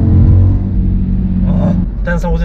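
An Audi RS3 rated at 400 hp, on winter tyres, revs hard with a loud, steady engine roar, and a voice briefly cuts in toward the end.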